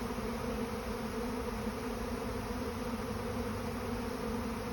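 An arriving honey bee swarm pours into a hive box full of drawn comb, making a thick, loud, unbroken buzzing roar from countless bees close by, with no voices.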